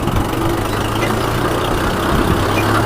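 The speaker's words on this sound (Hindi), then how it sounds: "ट्रैक्टर कमजोर है, ट्रैक्टर लोड नहीं खाता।" A Kubota MU4501 tractor engine runs steadily under load, a continuous low diesel drone with no speech.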